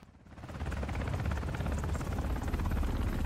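A helicopter in the Modern Warfare video game during a team deathmatch, its rotor roar building over the first half second, then holding loud, steady and close throughout.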